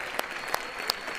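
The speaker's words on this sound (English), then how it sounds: "can we just do a round of applause to the dancers" Students give a brief round of applause for the Thon dancers in a university lecture hall, with a few sharp claps rising over a low, steady background of clapping.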